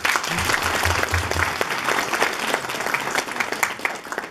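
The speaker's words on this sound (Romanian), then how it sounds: "vreau să-i mulțumesc și să o aplaud" An audience at a poetry book launch in Oltenița applauds, loud dense clapping that fills the room and stays steady, then thins slightly toward the end.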